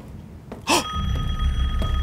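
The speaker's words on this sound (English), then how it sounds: "There's a phone ringing." A telephone rings in the horror video game Resident Evil Village, one bright ringing burst followed by a sustained electronic tone, close and clear.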